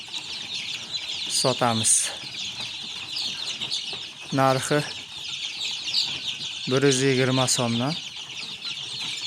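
A dense flock of mixed chicks, including Adler breed, raised at home, chirps nonstop in a high, busy chorus, while someone talks over it in several bursts.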